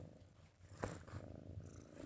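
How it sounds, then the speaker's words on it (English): A house cat purrs softly and steadily up close, a low rumbling drone with a faint rustle partway through, quiet and without any voices. "this is my new cat"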